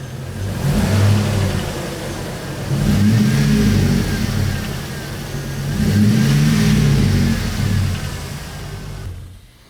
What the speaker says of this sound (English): Rev it a couple times.